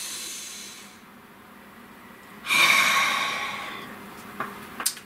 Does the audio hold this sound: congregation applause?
no